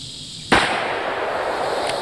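A handgun fires one sharp, loud, close shot with a ringing tail, followed by a much fainter pop near the end.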